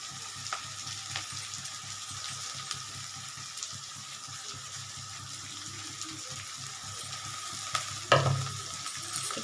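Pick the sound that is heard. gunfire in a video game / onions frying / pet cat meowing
onions frying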